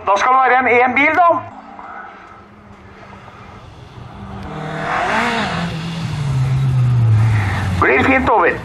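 A rally car on a special stage in a Norwegian winter rally, its engine rising and falling as it passes, with a commentator's voice heard over the sound throughout.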